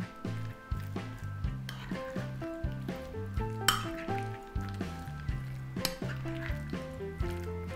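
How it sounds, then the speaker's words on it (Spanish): Drained tuna being mixed with a couple of spoonfuls of mayonnaise in a bowl, a spoon or utensil scraping and clinking against the dish in a steady, repeated rhythm, close and fairly quiet, with no talking. "En el atún bien escurrido le vamos a poner un par de cucharadas de mayonesa y lo vamos a mezclar."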